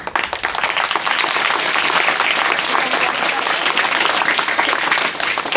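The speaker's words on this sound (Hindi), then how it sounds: "ताली बजाओ।" An audience at a Mission Shakti event claps loudly and steadily, a thick continuous wash of hands that holds at full strength throughout with no speech over it.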